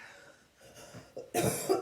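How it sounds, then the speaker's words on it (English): A couple of short, harsh coughs up close, the second burst louder and more forceful, with quiet breathing before them. "Got a little cough or something going on."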